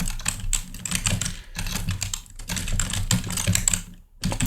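Rapid bursts of close computer keyboard typing while entering commands, clustered clicks broken by short pauses between words, with no voices.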